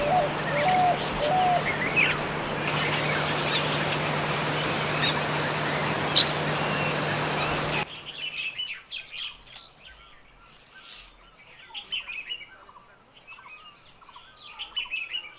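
Birds chirp and call around a drinking pool at a camp in Corbett National Park, India; steady dense outdoor ambience gives way to sparser, clearer tweets and calls scattered near and far.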